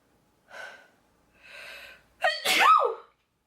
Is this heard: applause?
no